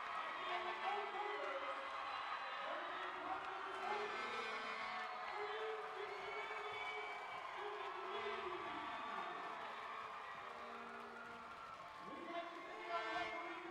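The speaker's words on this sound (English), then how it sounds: "listen to this crowd" A boys high school basketball game crowd cheers and whoops in a gym, a dense, distant-sounding roar of voices sustained throughout, with individual shouts rising above it and speech mixed in.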